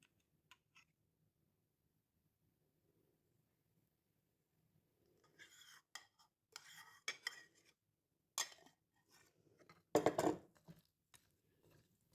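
Yogurt is stirred into a fruit chaat with a spoon, first faint, then in a burst of clinks and scrapes against the bowl. The stirring grows louder toward the end, and no voices can be heard.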